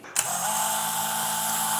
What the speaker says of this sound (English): to mark where we're actually gonna drill through with the smaller drill bit for the drill and tap